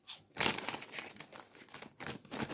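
A Lulu Puffs ketchup-flavored snack bag is handled up close, giving bursts of loud crinkling and crackling plastic that start and stop irregularly, with brief quiet gaps between handlings.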